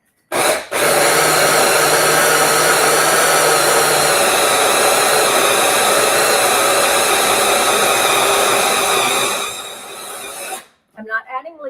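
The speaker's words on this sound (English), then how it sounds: "Okay, I'm going to puree this. So this is going to be a little noisy." Food processor pureeing dates for vegan turtle filling, a loud continuous whirring motor drone running steadily for about ten seconds before cutting off, followed by brief clatter.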